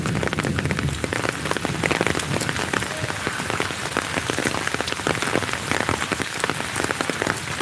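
Heavy monsoon rain pours steadily onto surfaces at close range, a dense unbroken hiss throughout with no distinct thunderclap standing out.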